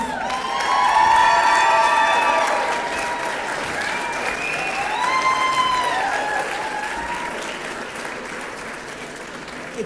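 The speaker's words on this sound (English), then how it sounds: "Please give him a big round of applause." Audience at a 2017 Oklahoma health freedom rally applauding a state senator, sustained clapping with whoops and cheers rising early then tapering slightly, with a voice speaking over part of it.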